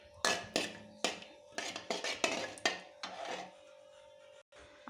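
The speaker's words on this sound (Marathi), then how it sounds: "आणि आता हे 3 लवंग या तुपामध्ये मी टाकून घेणार आहे।" Three cloves dropped into hot ghee in a pan while cooking sweet vermicelli, heard as a run of sharp metallic clinks and taps against the pan, close and clear, with a faint steady hum behind.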